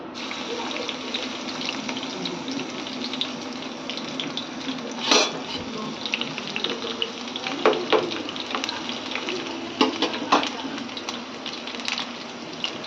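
Coarsely crushed garlic fries in a pan with a soft, steady sizzle, broken by a few louder scrapes and clinks of stirring.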